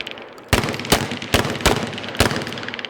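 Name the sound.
shotgun shots fired in defensive shotgun class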